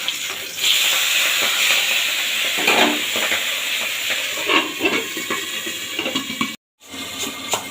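Pabda fish frying in hot oil in a pan, a steady bright sizzle and hiss that carries on with little change and briefly cuts out near the end.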